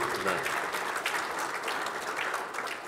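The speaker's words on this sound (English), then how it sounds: "I think you should all give yourself a round of applause" An audience at a talk on equity and the outdoors applauds, a dense, steady clatter of many hands filling the room, heard at moderate distance with no clear voices.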